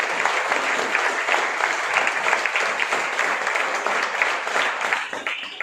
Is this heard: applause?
yes